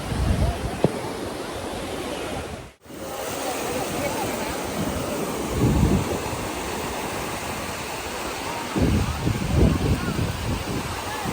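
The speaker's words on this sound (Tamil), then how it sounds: "காற்று ஜில்லு ஜில்லுன்னு அடிக்குது அதில்." Sea wind and breaking waves on crowded Velankanni beach make a continuous loud roar, with gusts buffeting the microphone and surges of surf swelling midway and near the end.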